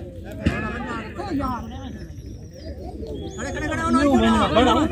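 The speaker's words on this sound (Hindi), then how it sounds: "ये कबूतर है दोस्तों जो मस्ती कर रहे" Pigeons coo in low, repeated warbling calls amid a hum of voices and crowd babble at a pigeon-flying match.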